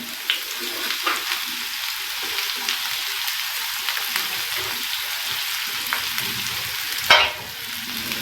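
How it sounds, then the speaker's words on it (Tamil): Steady sizzling of onions frying in a hot pan, a continuous crackling hiss with a brief louder burst near the end, no voices. "இப்போ இதை நல்லா வதக்கிக்கலாம்."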